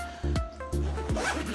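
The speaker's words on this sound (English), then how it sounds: "zip it up, and I'm packed, clothing wise." A suitcase zipper pulled closed in a few quick rasping strokes, close and fairly quiet, with no talking.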